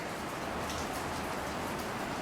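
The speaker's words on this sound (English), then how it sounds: "It's raining like a cow peeing on a flat rock out there." Heavy rain pours steadily outside, a dense, constant hiss of drops hitting surfaces with no break across the short stretch, loud and close with no voices.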